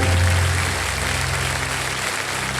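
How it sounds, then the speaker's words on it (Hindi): Loud, sustained applause from a studio audience on the Hindi quiz game show Kaun Banega Crorepati, a dense continuous wash of clapping with a low musical tone underneath. "तालियां बज जाए जोरदार।"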